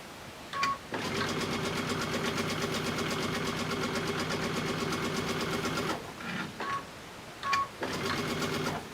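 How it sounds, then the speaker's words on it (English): A home sewing machine stitches in a sustained, fast mechanical whir for about five seconds, then in short bursts with brief pauses and small clicks between them, close and fairly loud with no talking. "Is my sewing machine really loud?"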